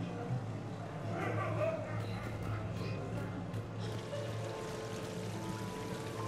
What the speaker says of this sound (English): Please do not touch the waterfall. The fountain is decorative.